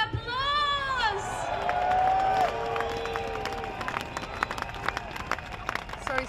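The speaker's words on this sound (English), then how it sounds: "So give yourselves a big round of applause!" A crowd at an outdoor Brexit-deal vote rally breaks into cheering, whooping and scattered clapping, with shouted voices rising over the applause before it thins into sporadic claps.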